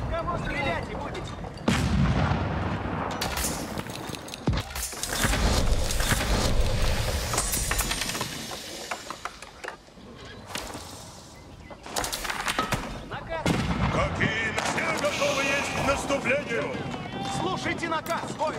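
Loud, repeated gunfire and artillery-like blasts from Age of Empires 4, with Rus Streltsy gunpowder infantry firing volleys in bursts amid battle clamor, under game voice lines.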